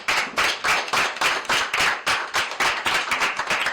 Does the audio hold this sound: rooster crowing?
no